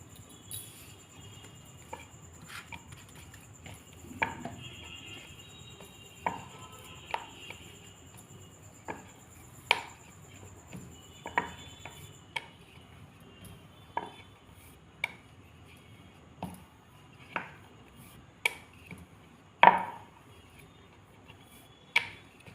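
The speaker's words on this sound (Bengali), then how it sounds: "এইভাবে বেলে নেবেন।" Paratha dough is rolled out on a board for Dhaka-style layered paratha, giving a series of soft thumps and knocks every second or so. The sounds are fairly close, with a faint steady tone in the background and no talk.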